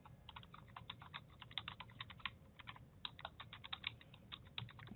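Fingers type an email address on a computer keyboard, quick irregular bursts of close, crisp key clicks in a quiet room.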